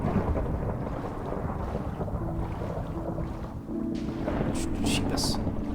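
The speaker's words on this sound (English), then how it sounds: "being out in the ocean in the middle of a fucking thunderstorm might not be a good idea" Thunder rolls through a thunderstorm out on the ocean, a low, sustained rumble mixed with wind buffeting the microphone and rain, with a few sharper bursts near the end.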